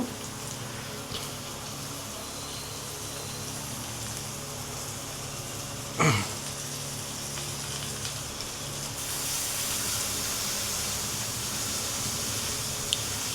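Prawns going into a hot pan for a jidipappu prawn curry give a soft, steady hiss and sizzle, with a sharp burst midway and the sizzle growing louder and brighter toward the end, no talk.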